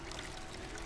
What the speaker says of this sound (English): refill water skins